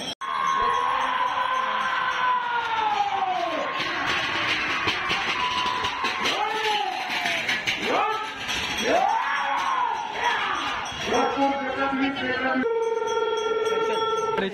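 Spectators at a bullock cart race whoop and cheer in rising, wavering shouts over a constant crowd din, with a brief ringing tone near the end.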